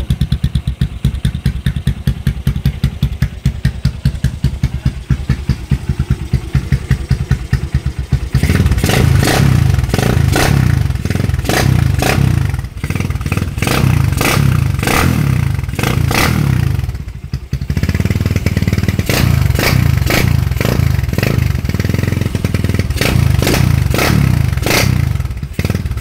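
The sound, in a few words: Honda Supremo 200cc motorcycle with kalkal exhaust pipe revving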